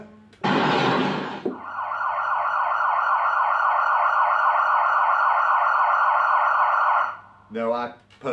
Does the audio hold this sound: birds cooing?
no